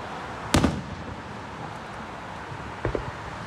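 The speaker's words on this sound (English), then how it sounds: "that fireworks is so small" Two distant Independence Day firework bangs a couple of seconds apart, each a sharp pop with a short crackling tail over steady outdoor background noise.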